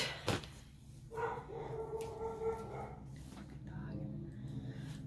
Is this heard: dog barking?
yes